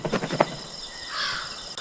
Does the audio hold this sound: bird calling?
yes